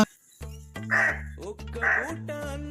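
Crow cawing close by, several harsh repeated caws in two main bursts with shorter calls between, alongside other low steady background sound.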